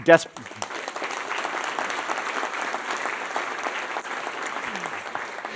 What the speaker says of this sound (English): When I hear applause, it comes from the whole room, not from one half or the other